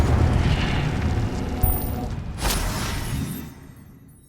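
Incendio fire spell cast in Hogwarts Legacy during a fight with guards: a roaring, rushing blast with a sharp burst near the middle, fading out toward the end.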